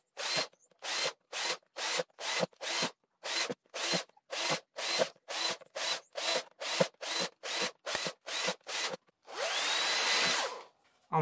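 An electric drill with a spiral bit bores holes through a homemade plastic cheese mould in about twenty short, evenly spaced bursts, followed by one longer continuous whir near the end, loud and close.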